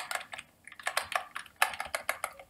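Computer keyboard keys are pressed in a quick, uneven stream of soft clicks and taps, fairly close and quiet, with brief pauses between bursts of typing.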